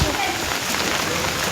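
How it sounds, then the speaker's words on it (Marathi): Rain pours steadily outdoors in foggy weather near a temple, a dense, even hiss of falling drops throughout, with voices faintly underneath. "पाऊस पण पडतोय, धुकं पण आहे थोडं थोडं"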